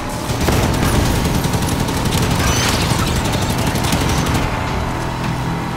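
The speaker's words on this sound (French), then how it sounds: "La tourelle est prête à En cracher." Sustained, loud turret gunfire from the Halo 5 video game, a dense rapid burst of shots with explosive booms running continuously for several seconds, close and dominating the mix.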